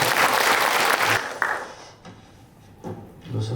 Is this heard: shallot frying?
no